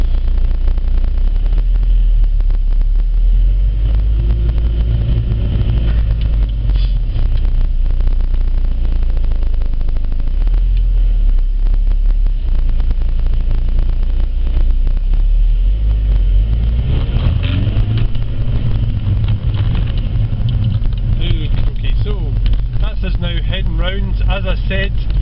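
Car driving in moving traffic on the M9 motorway, with a continuous low engine and road rumble filling the cabin while someone talks over it for most of the time.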